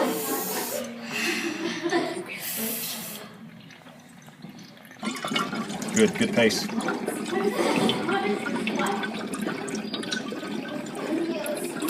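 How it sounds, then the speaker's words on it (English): Someone exhales hard through a hose into water during a classroom lung capacity experiment, producing a burst of bubbling and gurgling that rises midway and carries on steadily while people speak nearby. "A few big in and out, and then one big exhale into the hose."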